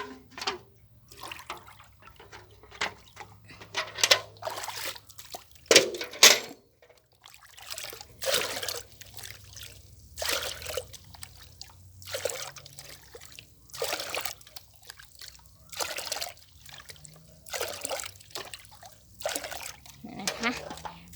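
Liquid being poured and scooped for a food-waste and leftover-vegetable microbial ferment, with repeated short splashes and trickles at close range, broken up by someone talking over and between them.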